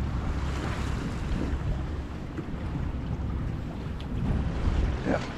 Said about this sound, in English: Wind's just picked up a little bit